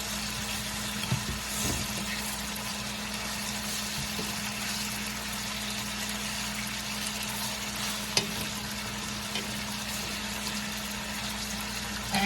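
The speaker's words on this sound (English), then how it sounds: "then we're going to go ahead and saute our onions and our pepper" Onions and two peppers sauté in a pan for Panamanian-style arroz con pollo, giving a steady, even sizzle with a few faint clinks of stirring and no voices.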